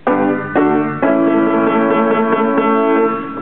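A piano plays a chord progression alone, sounding full, close and sustained, with a new chord struck about every half second to second.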